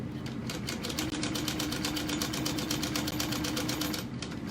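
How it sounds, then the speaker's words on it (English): A sewing machine bastes layers of fabric and interfacing together for a tote bag, a close, fast, even rattle of stitching that runs continuously with brief slight pauses. "I'm going to baste these fabrics together too where it didn't adhere correctly"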